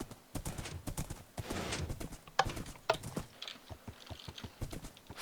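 A horse gallops in Minecraft, its hooves clip-clopping in a quick, steady rhythm. The sound is fairly faint and continuous and carries on for several seconds with no talking.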